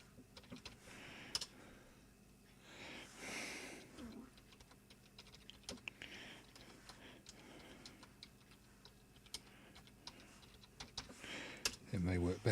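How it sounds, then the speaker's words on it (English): Quiet tapping on a computer keyboard: irregular bursts of light clicks scattered throughout, close but faint, with a soft steady ticking and brief murmurs of speech in between, ending in a louder thump. "I shall type in there and say hello."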